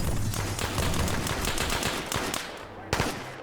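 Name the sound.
gunfire in a military video game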